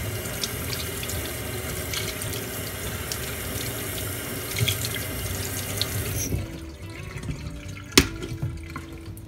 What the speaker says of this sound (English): use warm tap water.